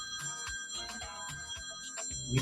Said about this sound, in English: Why am I hearing a phone ringing?